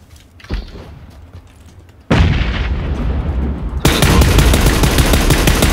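A grenade explosion and a burst of gunfire in the battle royale game PUBG land as a sudden loud blast, followed by a dense, sustained crackle of shots that grows even louder.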